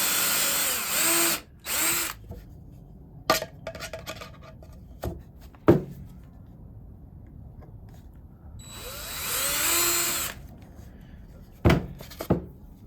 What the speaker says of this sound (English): You can drill your hole any way you want.